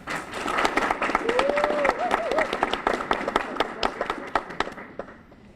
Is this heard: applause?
yes